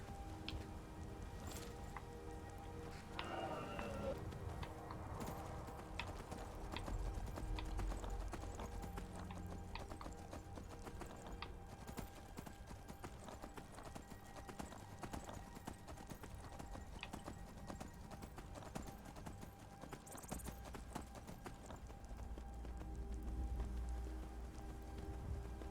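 Horse hooves clip-clop in the video game Skyrim during a downpour, a fairly faint, steady rhythm of hoofbeats mixed with rain and occasional other game sounds, with no voices.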